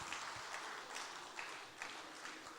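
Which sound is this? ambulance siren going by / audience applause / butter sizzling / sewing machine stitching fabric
audience applause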